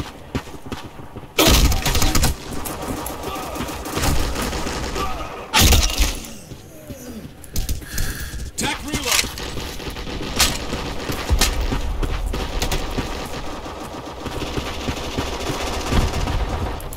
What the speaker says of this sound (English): wait, this is a machine pistol?